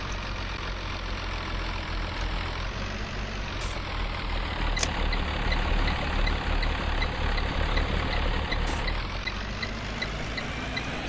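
A Thomas HDX school bus drives along in a video game, its steady low engine drone rising slightly as it pulls, with a few brief high-pitched tones, loud and continuous with no talking.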